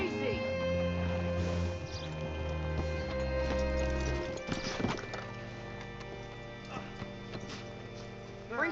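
Horse hooves clip-clopping with a brief whinny in Red Dead Redemption 2, set against a sustained musical score with tonal drones and some faint voice activity in the mix.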